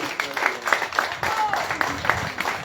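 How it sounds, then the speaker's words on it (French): Audience at a public conference in Le Carbet applauding young team members, a moderately loud crowd of claps with rhythmic swells and bursts, voices mixed in underneath. "on les applaudit bien fort, s'il vous plaît, mesdames,"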